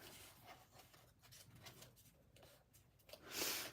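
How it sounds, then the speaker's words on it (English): A paper envelope is folded shut and pressed closed: soft scratchy rubs and crinkles, close and quiet, ending in a louder brushing swipe. "Close up the envelope."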